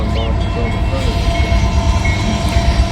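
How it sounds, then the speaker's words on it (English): A southbound Norfolk Southern intermodal freight train crosses railroad diamonds up close. A loud continuous rumble of rolling cars carries squealing wheel tones and rhythmic clanks over the crossing. "Norfolk Southern intermodal train. Gonna slam these diamonds right in front of us."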